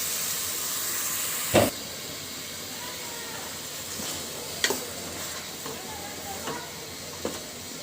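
Vegetables, including eggplant, drop into a hot pan with spices and sizzle steadily, with a sharp burst as they land and a few quieter stirring clinks following.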